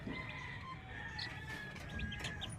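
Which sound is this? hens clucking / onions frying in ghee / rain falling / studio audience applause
hens clucking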